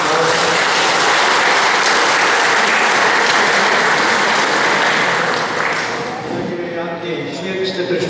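Loud, sustained applause from an audience at the 38th Slovenian Youth Concert in Brisbane, a full roar of clapping that holds steady, then thins and fades toward the end as a voice begins speaking.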